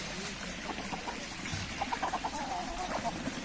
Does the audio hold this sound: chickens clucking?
yes